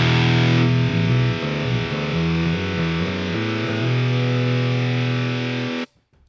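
Distorted electric guitar held and sustained by two EHX Freeze pedals, a dense droning chord with shifting notes over a steady wash that cuts off abruptly near the end, loud and close with no talking.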